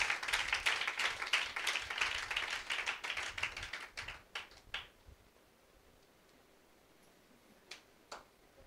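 A church congregation claps together during a Telugu sermon, a dense burst of rapid applause that thins into scattered claps and dies out after about four seconds, followed by near silence with a couple of stray late claps.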